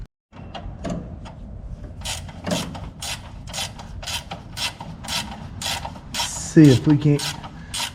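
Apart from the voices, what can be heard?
socket wrench turning a bolt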